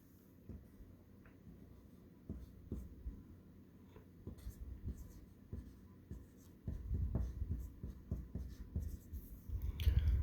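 Chalk or marker writing on a board during a sixth grade English class, scratchy strokes repeating irregularly at close range, with quiet shuffling and faint murmurs in the room.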